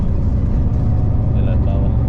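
Large trucks passing underneath a bus between Singapore and Johor, a heavy low rumble of engines and tires, loud and continuous, with faint voices mixed in.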